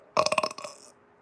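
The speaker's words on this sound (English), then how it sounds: "I'm getting excited, so I burped" A single loud, close burp rolls out in a rapid, rattling series of pulses that trail off after about a second.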